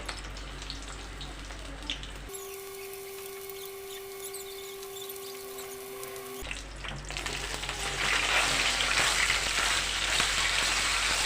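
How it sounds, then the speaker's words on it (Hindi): Colocasia leaf badi fry in oil while being turned, a close crackling sizzle that gives way to a steady tonal hum mid-way, then returns with a brighter, louder hiss toward the end. "इन बड़ियों को तेल में थोड़ा फ्राई कर लेंगे, इन्हें अलट पलट करके थोड़ा फ्राई कर लेते हैं"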